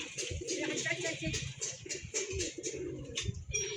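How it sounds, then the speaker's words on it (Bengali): A pigeon coos near a coconut tree, soft rounded calls repeating in a slow rhythm close by, with faint voices and light background noise mixed in. "বন্ধুরা দেখতে পাচ্ছ পায়রাটা নেমে পড়েছে।"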